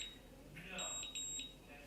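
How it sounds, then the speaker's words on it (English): Two short, high electronic beeps from an automatic wireless curling iron sound in quick succession over faint background noise. "And then you're gonna hear that beeping."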